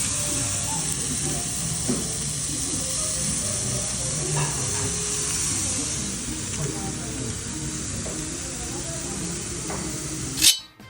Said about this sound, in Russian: Обжариваю мяско.